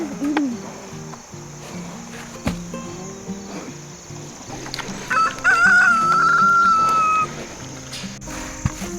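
Backyard chickens, with a rooster crowing loudly and clearly near the end over scattered clucks, insect chirping and farmyard bumps.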